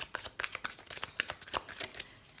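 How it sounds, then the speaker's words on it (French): A deck of animal tarot cards is shuffled by hand, making fast, close riffling and flicking bursts in a quick uneven rhythm with no speech. "on prend une carte du tarot des animaux, simplement dans les arcanes majeures"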